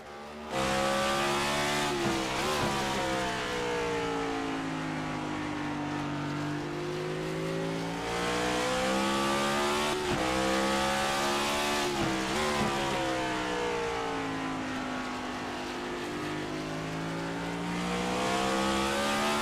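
An ICON Cup Series race car lapping the Martinsville short track, its engine droning loud and steady with rising and falling revs as it brakes and accelerates through the turns.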